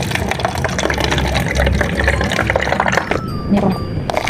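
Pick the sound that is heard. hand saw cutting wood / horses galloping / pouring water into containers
pouring water into containers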